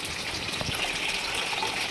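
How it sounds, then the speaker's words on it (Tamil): A steady gush of water pouring into a cooking pot for fish biryani, close and continuous for a couple of seconds, with no voices. "இப்போ அளவு தண்ணி கொடுத்துக்கலாம்"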